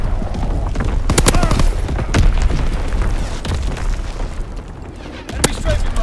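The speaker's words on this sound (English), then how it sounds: "precision artillery. Target position bomb incoming." A precision artillery bombardment in Call of Duty: WW2, with loud booming impacts and rumbling blasts in a dense, continuous barrage and sharp cracks standing out, a voice speaking underneath.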